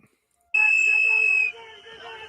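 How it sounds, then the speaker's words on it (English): A loud, shrill whistle blast sounds for about a second after brief silence at a riot, followed by a lower sustained tone. "whoever is literally taking this video is blowing a whistle"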